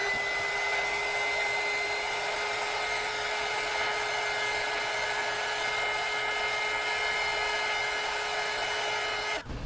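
A hair dryer runs steadily at close range for nearly ten seconds, a constant whooshing hum with a faint high whine, while it warms the adhesive battery pads inside an LED lamp. It cuts off abruptly at the end.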